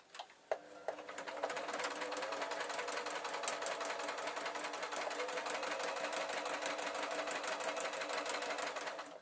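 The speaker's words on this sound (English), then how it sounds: "I'm going to sew all round the outside" A sewing machine stitches around the edge of a taffeta bookmark, its needle running in a steady, fast mechanical patter close by after a couple of brief clicks at the start.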